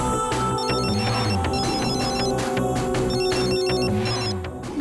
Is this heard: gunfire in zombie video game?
no